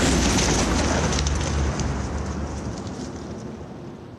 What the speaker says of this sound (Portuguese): Vamos tentar com 5 gramas de algodão azótico.